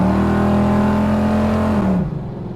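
A 1968 Chevrolet Camaro Z-28 engine pulls hard under acceleration with a loud, close, strained roar that holds steady and then drops as the revs fall away.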